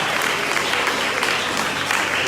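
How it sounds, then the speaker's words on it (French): A congregation claps together in a hall, a dense, steady burst of applause that carries at even strength for a couple of seconds. "Je vais applaudir"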